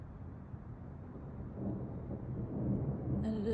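Thunder from an evening thunderstorm with rain already falling: a low, rolling rumble that swells gradually and grows louder toward the end.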